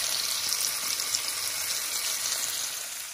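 Steak and eggs frying in a pan give a steady, close hiss and crackle of sizzling fat that continues evenly with no talk.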